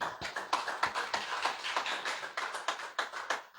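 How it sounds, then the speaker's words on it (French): Congregation applause at an evening church service with a pastor, a steady, fairly faint patter of many hands clapping continuously with scattered sharper claps, no speech over it. "On applaudissement encore."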